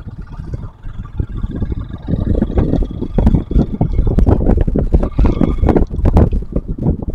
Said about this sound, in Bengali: এই মাঠে প্রচুর বাতাস হচ্ছে এই মুহূর্তে।